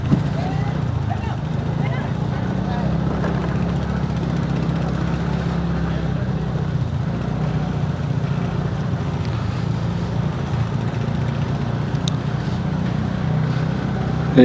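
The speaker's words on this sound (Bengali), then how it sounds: "আমরা এই যে 4টে বাইক নিয়ে বেরিয়েছি।" Steady low engine rumble of four motorbikes riding along a Darjeeling mountain road, continuous and fairly loud throughout, with faint wind and traffic noise.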